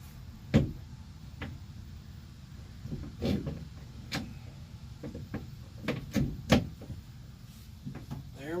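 Metal door hinge being worked loose from a 1961 Rover Series II body: scattered sharp clicks, knocks and taps of metal over a low background rumble, close and irregular, without speech.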